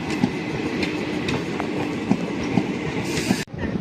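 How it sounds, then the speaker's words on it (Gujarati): A local passenger train rolling toward Shapur rumbles steadily with regular wheel clicks over the rail joints, heard loud from inside the carriage, with a sudden brief drop near the end. "આપણે બેસી ગયા છીએ ટ્રેનમાં અને નીકળી ગયા છે સાપુર જવા માટે"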